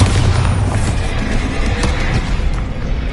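The Bombarda explosion spell in the video game Hogwarts Legacy, a loud, dense booming blast with rumbling that fills the whole moment.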